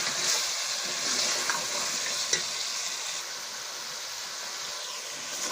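Mutton and potatoes frying and being stirred in a pan, a continuous loud sizzle with scraping stir strokes and a few sharp clicks of the utensil.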